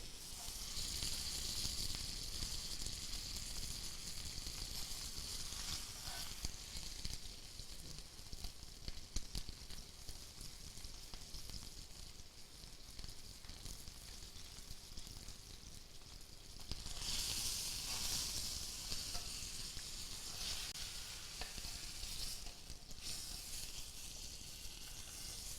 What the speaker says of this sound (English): Try to get these sides seared a little bit.